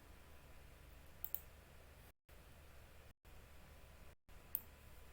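A computer mouse clicks the OK button in software: two faint, sharp clicks spaced a few seconds apart over a quiet, hissy room background, with no talking.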